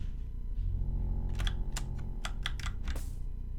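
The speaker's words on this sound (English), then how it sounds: "You hear the dice? Well, they make a sound when they land." Dice landing in the video game Dice Gorge, a quick cluster of light, sharp clicks and clatters over a low steady background hum.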